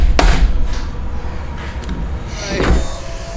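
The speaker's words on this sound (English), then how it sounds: "I'm gonna get a big fat screwdriver and try to drive it in here to hopefully pry that open a little bit" A large screwdriver is pried and driven into a Keihin PWK carburetor part during a rebuild, giving a sharp metallic scrape near the start and another around the end, close and fairly loud.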